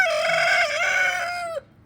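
A rooster crows loudly and close by in one long, drawn-out call that cuts off abruptly.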